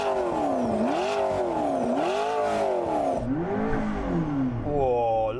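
A 3.8-litre turbocharged V8 car engine revs up and drops back in several rising and falling sweeps, loud and close, ending with a quicker blip of the throttle.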